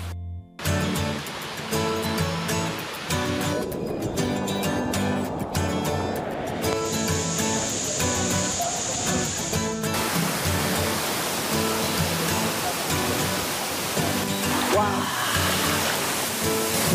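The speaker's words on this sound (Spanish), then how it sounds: "Esta quebrada nace aquí en la montaña" A mountain stream flows near its source, a broad continuous rush of water that stays loud and steady throughout, with a faint higher tone in the middle and no talking.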